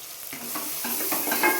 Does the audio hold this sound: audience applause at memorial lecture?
no